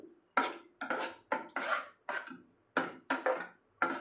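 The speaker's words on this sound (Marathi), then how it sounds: "व्यवस्थित सगळं मिक्स करून घेते" A spoon works curd and spices into besan gatta curry in a pan, giving a series of about nine separate scraping, clinking strokes in an uneven rhythm, close by with quiet gaps between them.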